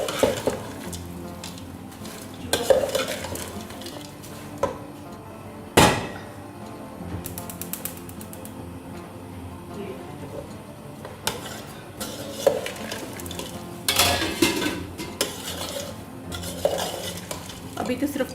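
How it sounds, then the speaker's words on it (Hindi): Vegetables for a chicken and vegetable macaroni sizzle as they fry in a pan, stirred with repeated scraping and sharp clanks of a utensil against the metal. Softer stretches of frying fall between the bursts of stirring. "इनको अच्छे से फ्राई कर लेना है, इनका पानी खुश्क हो जाए।"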